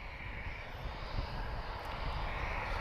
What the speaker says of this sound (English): Transavia, he's off to Montpellier. This is Transavia France. And another lovely 737NG.